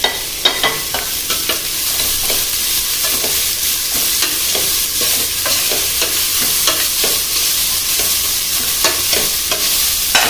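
Onions sizzle in a pan while a utensil stirs them, producing repeated scraping clicks over a steady frying hiss.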